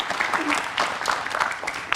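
Studio audience applause on an Indonesian political talk show, a dense patter of many hands clapping steadily for two seconds with faint voices mixed in.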